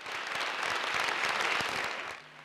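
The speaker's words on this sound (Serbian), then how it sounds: "najjači aplauz bio je namenjen mladoj glumici Kristini Tomić" An audience applauds after a theatre performance, a steady wash of clapping that holds for about two seconds and then fades.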